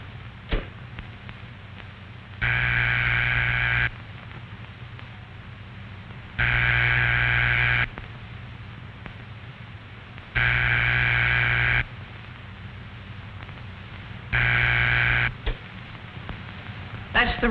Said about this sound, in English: That's the ringing signal. It tells you that the telephone at the number you called is ringing.